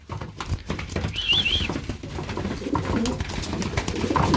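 Young racing pigeons, among them a checkered cock, give a single short warbling coo against a murmur of background noise and shuffling.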